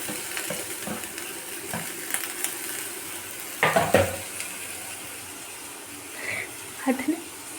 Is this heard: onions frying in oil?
yes